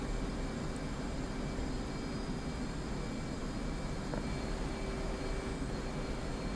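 F/A-18C jet engines powering up on an aircraft carrier deck in the DCS game, a loud, steady, broad roar with a faint whine, unbroken for the whole stretch with no voices.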